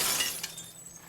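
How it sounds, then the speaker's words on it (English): Glass shot out in The Last of Us Part II, a short burst of shattering with bright crashing debris that quickly tapers off into quieter tinkling fragments, heard alone. "we would shoot the glass out and kind of thread it"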